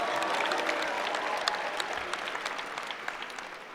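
A high school graduation audience claps in a steady wash of applause that gradually thins toward the end, with individual claps standing out.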